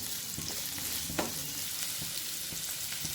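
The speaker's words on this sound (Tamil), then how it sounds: "வெங்காயம் நல்லா வதங்கட்டும்." Onions sauté in a pan for a meal maker gravy, giving a steady moderate sizzle with soft, irregular stirring scrapes and one sharper scrape in the middle, with no speech.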